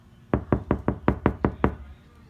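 Seven evenly spaced knuckle knocks on a car's passenger door lined with KilMat sound deadener. Each knock is short and dull, close and fairly loud, with quiet between them.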